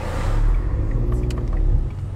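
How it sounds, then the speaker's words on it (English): Heavy road traffic heard from inside a vehicle, a loud, steady low rumble of engines and tyres with no talk. "Traffic's heavy, even here."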